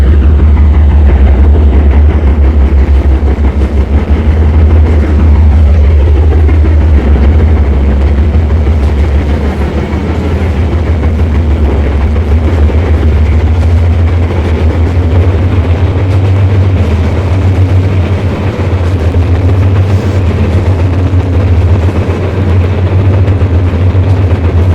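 A heavy freight train rolls along steadily toward the Twin Cities, its deep low engine rumble continuous and loud, with rail and wagon noise layered above throughout.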